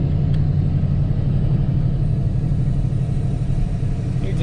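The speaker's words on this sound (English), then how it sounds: "First time me driving with the whole bed cut off and everything, so drives pretty good" A pickup truck with its whole bed cut off drives along a road on a first test run, its steady engine rumble and road noise constant and close throughout with no talk.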